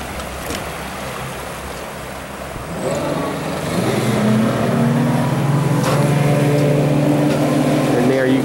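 A 1998 Grady White Gulfstream 232 motorboat's engine revs up and settles into a steady, loud roar as the hull gets moving onto plane, with water rushing and wind noise throughout.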